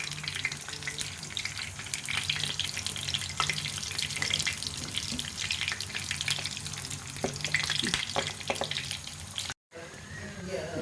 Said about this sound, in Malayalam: എണ്ണ ചൂടായി കഴിയുമ്പോൾ നമുക്ക് ഓരോ കട്ട്ലറ്റായിട്ട് ഇട്ട് കൊടുക്കാം